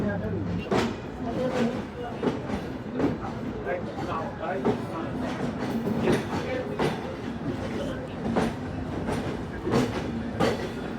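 Rupsha Bangla Express, Dhaka-bound, pulling out of Jessore Junction station: a steady rumble with repeated rhythmic clacks of wheels over rail joints, near and fairly loud, with voices faintly in the background.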